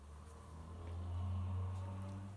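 A low, steady engine-like drone that swells and fades over a couple of seconds, plausibly a voice imitating a car.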